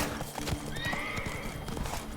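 Horse in The Witcher 3 video game, close rhythmic clip-clop of galloping hooves with a high whinny rising over them, steady and fairly loud throughout.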